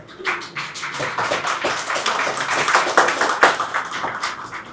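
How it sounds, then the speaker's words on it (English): At an art studio award ceremony and exhibition, the audience claps for an award winner: a dense round of applause that builds slightly in the middle and carries on steadily with little talking. "The audience, your applause is not doing justice to their soulful contributions"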